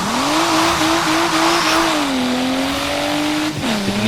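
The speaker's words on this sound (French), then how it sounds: "Cette glissade, super drift." A car in the video game Forza Horizon 3 drifts with a loud sustained tire squeal over a droning engine, the pitch sliding up and down, then dipping and shifting briefly near the end.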